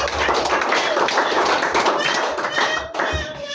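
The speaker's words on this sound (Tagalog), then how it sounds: "Palakpak sa ating Diyos." A church congregation claps in praise during a Sunday service, a dense, steady patter of hands filling the room, with a few voices mixed in under the clapping.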